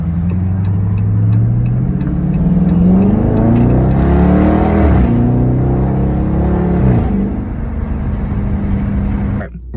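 A 2021 Dodge Charger R/T with the 5.7 Hemi V8 revs loudly up close, its exhaust rising and falling through several throttle blips in a steady deep rumble with no talk over it.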